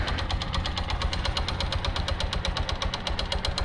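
A damaged motorcycle engine with a worn piston runs rough, giving a steady, loud, rapid knocking rhythm throughout with no talk.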